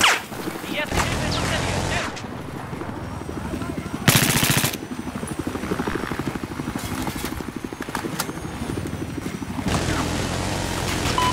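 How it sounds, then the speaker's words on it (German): A helicopter in the video game Battlefield 4 thrums with a rapid rotor chop, joined by bursts of machine-gun fire and other gunshots, while players speak German over the game audio. "Das ist der Hubschrauber."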